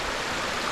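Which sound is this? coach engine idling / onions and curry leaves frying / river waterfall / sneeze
river waterfall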